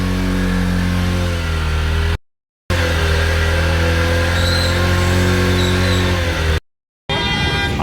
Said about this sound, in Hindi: ये पता नहीं बाइक में क्या होता है भाई, सुबह सुबह पता नहीं घाया घाया घाया घाया करती रहती है।